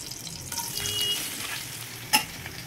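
Mallai peda mixture sizzles and is stirred in ghee in a kadai, a soft steady frying hiss with light scraping and one brief louder clatter, no voices.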